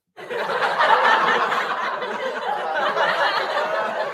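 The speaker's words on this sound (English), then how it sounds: "laugh track." A canned laugh track played from a soundboard: a sustained wash of crowd laughter and chuckling that starts abruptly and carries on steadily for several seconds.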